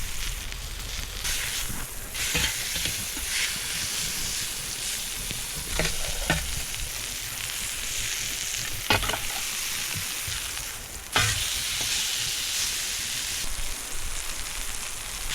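A ribeye steak sizzling on a stainless steel camp griddle outdoors, a steady, crackling fry heard close, with occasional sharper pops and a brief surge of louder sizzle partway through.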